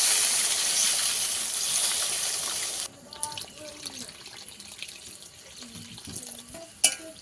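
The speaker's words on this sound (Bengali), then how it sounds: "এটা জল দিয়ে দেব পরিমাণ মতন জল" Water poured into a pan of fish curry with potatoes and cooked-down spices, a steady broadband gush for about three seconds that stops abruptly, followed by softer kitchen clatter and faint sizzling.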